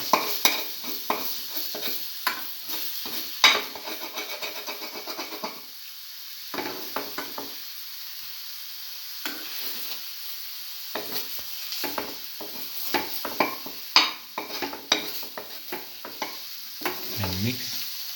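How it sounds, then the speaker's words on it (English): An egg is slowly scrambled in a sizzling frying pan for a cinnamon coconut stir fry, with steady scraping strokes and soft utensil taps over a constant frying hiss and a few brief pauses. "Slowly scramble the egg."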